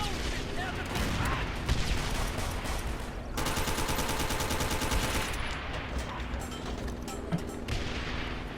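Battlefield video game gunfire rattles almost nonstop, with sustained automatic bursts and heavy shots, loud and close, with a voice speaking in places.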